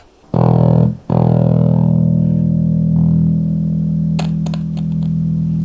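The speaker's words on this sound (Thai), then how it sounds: "อ่ะเสียงเบสคืออย่างนี้เนาะ" A bass guitar played through a guitar effects pedal into a small amp, a sustained low distorted note that briefly cuts out then rings on steadily, with a few string clicks near the end.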